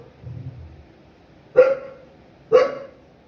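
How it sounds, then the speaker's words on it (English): A dog named Rani barks indoors: two sharp, loud, close barks about a second apart, preceded by a faint low rumble, with no talking over them. "My dog is barking."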